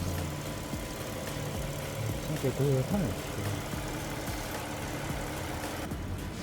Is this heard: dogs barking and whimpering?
no